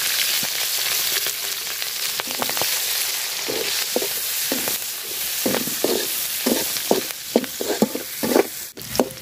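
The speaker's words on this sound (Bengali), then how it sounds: "মাছ ভাজার তেলে পেঁয়াজ আর মরিচ দিয়ে দিলাম" Onion and chilli sizzling in oil left over from frying fish, a continuous crackling hiss with spatula scrapes and stirring clatter that grow more frequent toward the end.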